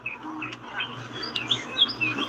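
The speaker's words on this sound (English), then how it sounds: "you can hear the birds louder." Birds chirping outdoors, a few small, faint tweets scattered over a low background hum, fairly distant and with no voices.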